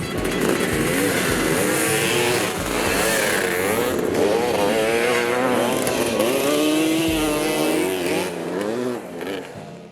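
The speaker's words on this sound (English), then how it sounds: "my 1954 basket case Triumph Tiger 110 is about to be raced" A loud 1954 Triumph Tiger 110 motorcycle engine revs and races at Glen Helen Raceway, its pitch rising and falling through gear changes, close and continuous with no talking.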